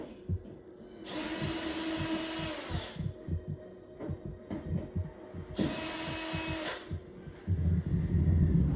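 A power drill backs screws out of wood while building a DIY spice rack, with two sustained whirring bursts of about two seconds each, separated by handling knocks and clatter, fairly close and with no talking.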